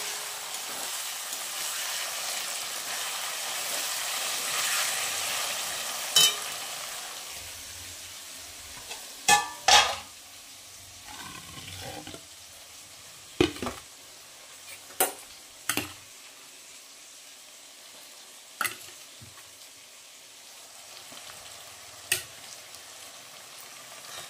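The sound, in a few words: meat sautéing in a pan, potatoes then added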